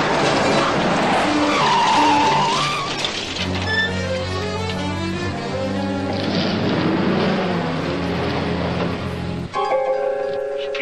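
A tractor rams toward a car on private rural property, tires skidding and squealing loudly, with engine roar and a sharp tonal screech sustained for several seconds.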